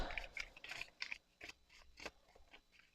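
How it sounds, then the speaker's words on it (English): A deck of cards is riffled and shuffled close by in quick bursts of crisp papery flutters and snaps, a few sharp clicks as the cards settle, with no talking. "Okay, let's shuffle this."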